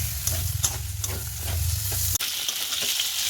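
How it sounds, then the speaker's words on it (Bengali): A loud, continuous sizzle of potatoes frying in a hot pan, with a low rumbling hiss underneath and a brief sharp click near the end. "এখানে আলু ভাজা হচ্ছে"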